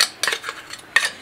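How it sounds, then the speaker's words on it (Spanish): A utensil clinks against a bowl in a few short, sharp bursts while tuna sandwich ingredients are stirred together, close and without speech. "Vamos a mezclar los ingredientes. Los vamos a poner todos juntos aquí"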